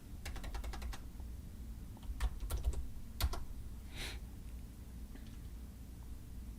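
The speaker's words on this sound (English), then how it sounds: "I'll just type in basketball" Close, fairly quiet keystrokes tap on a computer keyboard in a quick run of clicks, then a few scattered presses follow against a low background hum.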